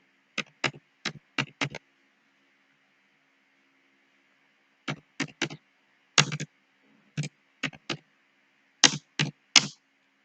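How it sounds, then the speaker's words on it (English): Typing code on a computer keyboard, heard as quick bursts of crisp key clicks in two clusters separated by a pause, close and fairly quiet over a faint steady hiss, with no talking. "So let me just type the code."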